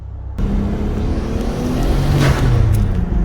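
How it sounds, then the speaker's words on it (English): A turbocharged Nissan Skyline R34 engine roars steadily close by, with sharp exhaust pops and a brief hissing blow-off valve whoosh partway through. "you can hear it pop with the exhaust. Then you've got the blow-off valve going."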